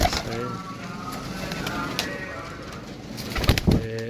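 Pigeons coo steadily at close range in a fancier's loft in Gujrat, the calls layered over a soft background, with a few sharper rustling knocks near the end.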